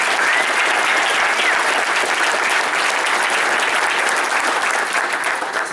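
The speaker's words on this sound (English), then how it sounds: "parents, athletes, give yourself a round of applause for being here." Parents and athletes at a football orientation meeting applaud together, a loud, continuous rattle of many hands clapping that holds steady throughout, close and full in a large room.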